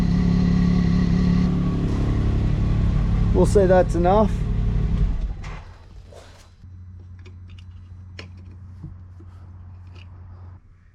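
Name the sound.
Can-Am Maverick X3 engine idling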